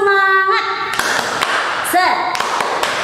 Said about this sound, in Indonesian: Sekarang kita tepuk semangat dulu ya, biar kalian lebih semangat.